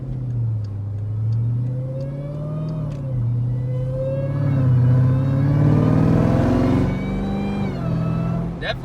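A heavily modified supercharged Jeep Trackhawk engine revs up and holds several times, with a rising tonal blower whine riding over the deep engine roar, loud and close.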